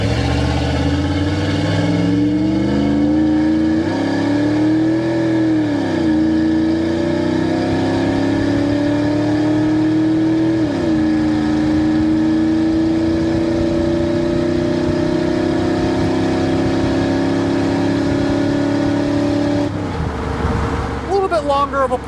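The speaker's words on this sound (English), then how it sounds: "Has a great exhaust note to it with that aftermarket muffler." A 1993 Ford Lightning pickup with an aftermarket muffler accelerating hard through several gears, the engine note rising in long pulls between shift dips, loud and close from inside the cab.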